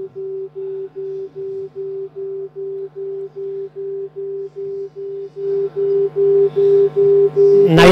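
A pulsing electronic microtone representing shades of yellow beeps in an even, repeating rhythm, growing louder toward the end as background noise rises.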